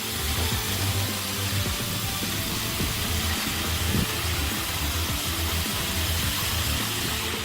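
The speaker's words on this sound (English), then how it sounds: "this giant saw works at full power, cutting through logs with precision and power" A giant sawmill saw runs at full power on a factory floor, cutting through a large tree trunk with a loud, continuous mechanical roar and a steady low hum throughout.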